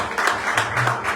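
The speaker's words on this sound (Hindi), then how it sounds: "मैं अपने असीम खुदा के लिए भरपूर तौर पे तालियां बजाऊंगा जो यहाँ पे उतरा है।" A church congregation claps during a Sunday worship service, a dense, steady wash of many hands with a few stronger beats rising through, fairly close and continuous, with a faint voice underneath.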